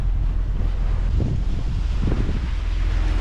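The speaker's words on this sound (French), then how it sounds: "Ça y est, une petite brise s'est levée." Steady wind rushes across the microphone on a sailboat at sea as a light breeze of about five knots rises, with a low continuous roar and soft swells of gusting and water wash, no voices.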